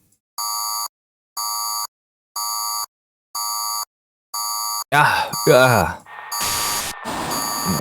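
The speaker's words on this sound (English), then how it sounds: "A deafening alarm begins to blare incessantly." A loud electronic alarm from the Type-NOISE: Shonen Shojo video game blares in five evenly spaced beeping bursts, then gives way to harsh, noisy sounds.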